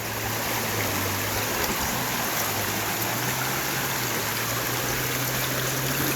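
Clear water of a creek beside a trail near waterfalls in San Jose del Monte, Bulacan, rushing and babbling steadily at close range with an even, unbroken hiss.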